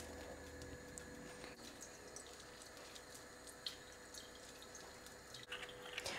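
Lemon juice from two lemons poured into sugar syrup for a mango passionfruit cake, a faint, steady liquid trickle with small drips over a quiet kitchen hiss, alone.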